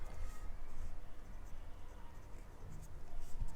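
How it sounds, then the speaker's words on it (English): Pen or brush scratching across paper while handwriting Chinese characters in regular script, a soft continuous scraping with small strokes and pauses, close and quiet with no talking. "Now, let's write."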